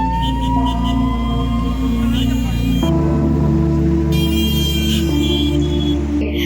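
Fire engine siren sounding at a blaze in a furniture shop stocked with wooden furniture at Darjeeling More, loud, steady held tones that shift pitch in stages and run continuously throughout.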